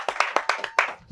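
A studio audience on a Yoruba-language game show claps in a brisk burst of close, sharp hand claps lasting about a second.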